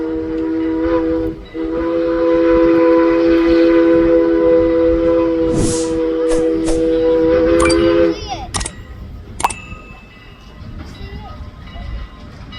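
A steam train at Strasburg Railroad chuffs in the distance while a long, loud multi-tone whistle sounds for several seconds, followed by a few short sharp blasts.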